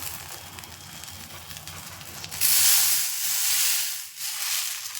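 Appam batter poured onto a hot dosa griddle gives a sudden loud sizzling hiss about halfway through, swelling and easing off and then rising again, after a quieter low background.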